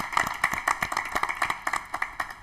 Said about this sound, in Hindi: भारत देश के लिए एक बार जोरदार तालियां हो जाए प्लीज